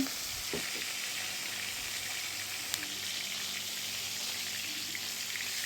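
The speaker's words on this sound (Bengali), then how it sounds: "মাছগুলো দেখো মাছগুলো ভেজে নিচ্ছি" Bhola fish fry in hot oil in a wok with a dense, steady sizzle close up, a few sharp spatters and a brief clink near the start.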